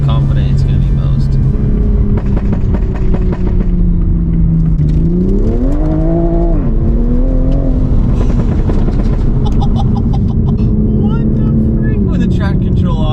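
Stock-exhaust Toyota Supra engine pulling hard on track, with loud rising and falling revs, gear-shift dips and crackling burbles, heard up close under excited talk.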